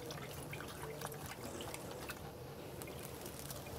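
Water runs steadily over a non-autoclavable endoscope being rinsed by hand, a close, continuous trickling and splashing flow with occasional small knocks and no talk.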